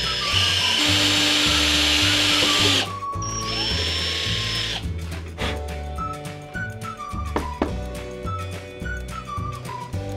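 A power drill bores a pilot hole in a Proline VW Bug Baja body for a Traxxas Slash 4x4 RC car. The motor whines steadily, shifts pitch partway through and runs in short bursts under background music.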